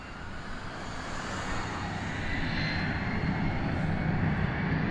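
A Delta airliner's jet engines rumble and build at Las Vegas airport as the plane gets moving on the runway, a broad steady roar that grows gradually louder from a moderate distance.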